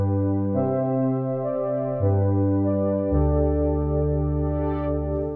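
Warm synth pad played in MainStage and Logic, sustained chords with rich layered harmonics shifting through several held changes, loud and steady with no talking.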